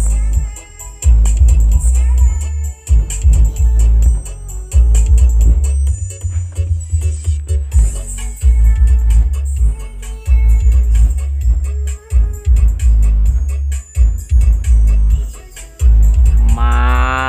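Music plays loudly through a car stereo with a single 8-inch Bazooka subwoofer, heard from inside the cabin of an old Suzuki Zebra with the doors closed and windows down, with deep, booming bass throughout.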